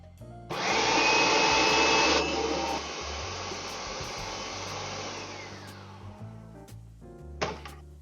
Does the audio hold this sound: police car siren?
no